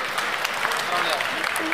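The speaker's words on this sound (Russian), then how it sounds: "Аплодисменты!" An audience applauds at an event announcing a winning student team, a dense burst of clapping that stays steady through the short moment, with a voice rising near the end.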